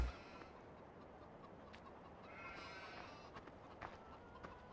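Chickens cluck softly on a farm in Farming Simulator 15, a few scattered faint clucks over quiet ambient background.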